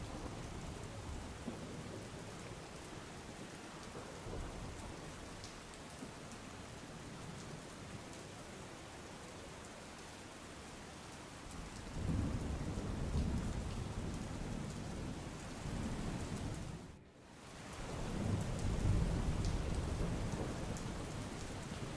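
Steady rain pours throughout in rural Dhanera, Banaskantha, Gujarat, while a deep rumble of thunder swells midway and rolls on, briefly cut before the downpour continues.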